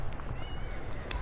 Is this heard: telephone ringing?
no